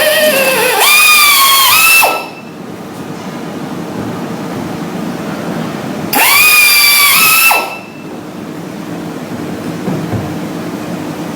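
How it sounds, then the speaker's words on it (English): A power drill with a hole saw spins up loudly twice, each run rising in pitch then cutting off after about two seconds, with a low steady hum between the bursts. "This next size is done with the correct hole saw."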